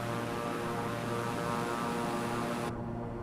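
An aircraft in a flight video game takes off from runway 23, a steady loud engine drone holding close and constant before cutting out abruptly near the end, with no talking.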